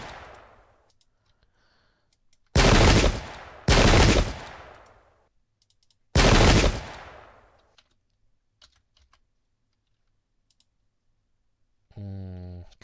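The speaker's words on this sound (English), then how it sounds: "Nice disruption from the cannon." Cannon fire in the video game Pike and Shot, a battle from the British/French war of 1661-1685: three loud, booming blasts, two close together and a third a few seconds later, each trailing off into near silence, with a brief tonal sound at the end.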